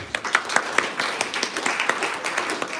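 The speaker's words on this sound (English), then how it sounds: "Let's give her a round of applause." An audience claps for a pianist at a theremin and piano concert, a moderate round of scattered, overlapping handclaps from a modest indoor crowd.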